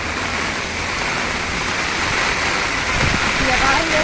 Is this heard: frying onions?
no